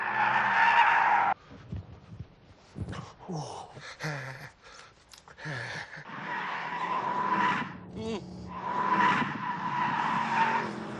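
A race car brakes hard and skids in The Grand Tour Game, tires squealing loudly in a long burst. After a pause, engine noise and further squeals return.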